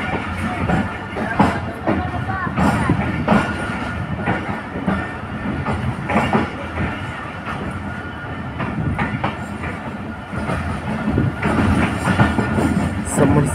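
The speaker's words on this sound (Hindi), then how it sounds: "समरसट्टा जंक्शन रेलवे स्टेशन, हमारी ट्रेन डिपार्चर होती हुई समरसट्टा रेलवे स्टेशन से" A passenger train pulls out of Samasatta junction railway station, with a steady rumble and repeated clattering of wheels over rail joints, heard from on board, loud and continuous.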